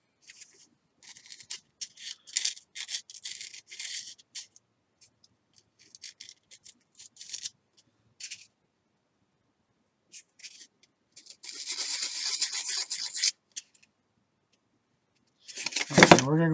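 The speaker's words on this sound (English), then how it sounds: "But we still need to go ahead and sand it and get it nice and smooth. Take the burr off of it." Short bursts of light scraping as a tiny rotor piece for an Apogee Gyro Chaser model rocket is sanded smooth to remove a burr, close and faint, in intermittent strokes separated by pauses.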